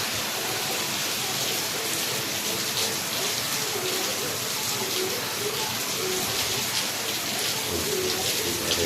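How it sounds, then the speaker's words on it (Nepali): Heavy midnight rain pours steadily in Goa, a dense, even hiss of drops drumming on surfaces that fills the whole stretch without a break, close and loud. "के साह्रो पानी परेको छ के भन्नु"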